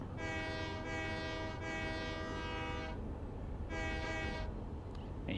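Horn of a train in the railway simulator game Train Life sounds in several loud, sustained blasts, with short gaps between them, over a steady rolling rumble of the train.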